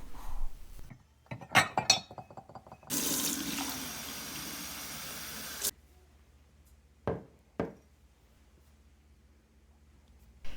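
Hot tap water gushes steadily from a kitchen faucet for about three seconds, with glassy clinks and handling knocks just before it and a couple of sharp taps after, all close and quiet, with no talk.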